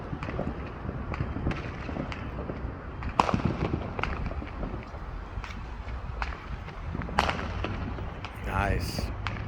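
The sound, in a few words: mini fireworks exploding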